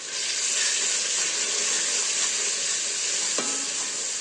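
Salt, turmeric and chili spices frying in a pan for a potato and spinach dish, stirred in: a steady, close, loud sizzle and hiss with faint scraping of the spoon through the mix.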